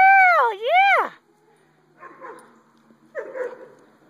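An off-leash dog gives a loud, high, wavering whimper-howl lasting about a second, then fainter short yips and barks follow, with a person's voice nearby.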